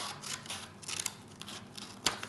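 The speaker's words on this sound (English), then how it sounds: "You want to take your scissors and let's trim that off, just like that." Scissors trim paper for a colonial-style Christmas paper craft, producing a few quiet, crisp snips and rustles, with one sharper cut near the end.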